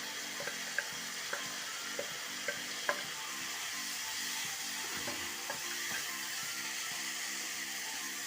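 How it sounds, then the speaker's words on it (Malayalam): Bitter gourd pieces fry in spiced masala in a pan for a bitter gourd pickle, giving a constant sizzling hiss with a low steady hum beneath and scattered clicks of a spoon stirring, no voices. "ഇനി നമുക്ക് പാവയ്ക്ക ഇട്ട് കൊടുക്കാം"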